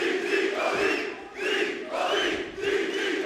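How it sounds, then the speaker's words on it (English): A wrestling arena crowd roars and chants in swelling waves, loud and continuous, rising and dipping in a steady rhythm. "Listen to the crowd."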